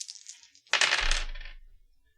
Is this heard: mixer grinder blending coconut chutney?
no